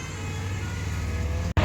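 A truck speeds past on an open road during a Sunday sports bike ride, a steady close roar of engine and tyres over wind that cuts off abruptly at the end.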